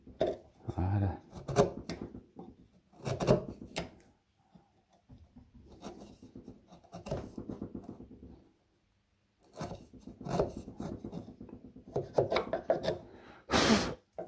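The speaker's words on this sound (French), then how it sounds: "vous avez ou la guimbarde ou le ciseau à bois pour nettoyer le fond" The bottom of a hinge mortise in wood is cleaned out with a router plane or wood chisel, giving short, close scraping and paring strokes spread between stretches of someone talking.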